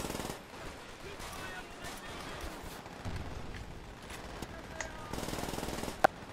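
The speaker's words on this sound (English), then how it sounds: "It's like a mini LMG. The fire rate is incredible." A PPSh submachine gun fires in the video game Call of Duty World at War, rapid-fire bursts at a very high rate, moderately loud, repeating several times with short gaps and a sharp final crack.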